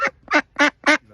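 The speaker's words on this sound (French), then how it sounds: "La canne, donc, elle fait vraiment un fort bruit." Female Indian runner duck quacking loudly in a garden, four harsh nasal quacks in quick even succession, close and clear with nothing else heard.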